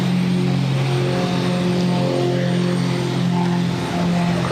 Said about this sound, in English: This Technam traveler is taking off to Lebanon.